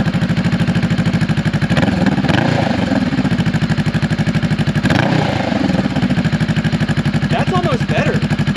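A Honda Rebel 300/500 motorcycle fitted with a Coffman's exhaust, silencer removed, runs close by with a loud, steady, throbbing idle and a couple of blips of revving.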